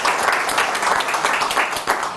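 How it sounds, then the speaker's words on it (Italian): Spontaneous audience applause at a public question session with a politician, dense continuous clapping at close range throughout. "L'applauso è spontaneo."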